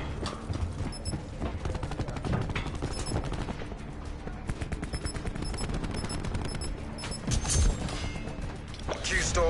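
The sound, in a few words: gunfire in Call of Duty video game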